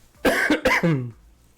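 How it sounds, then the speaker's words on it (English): A man coughs twice in quick succession, close and loud, then gives a short voiced throat-clearing rasp before it fades to quiet. "Sorry, I gotta keep coughing"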